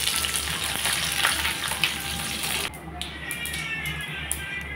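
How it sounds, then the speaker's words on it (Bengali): Oil with dried chillies and curry leaves fries for a tadka, a crackling sizzle that pops loudly then drops abruptly to a quieter spattering hiss with scattered sharp crackles, close by, with no voices. "দিয়ে দিলাম সাদা তেল, শুকনো মরিচ 2 টুকরা,"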